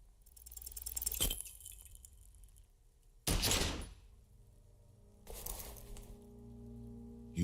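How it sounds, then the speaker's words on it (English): Pistol gunshots in the video game Disco Elysium, three sharp blasts spaced a couple of seconds apart, each with a short ringing tail, loud and clear without talk. "You hear an explosion within the weapon in your hands."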